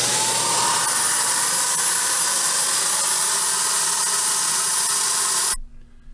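A spray gun lays finish onto a Hungerford dresser, a steady loud hiss running unbroken for about five and a half seconds before cutting off abruptly into near silence.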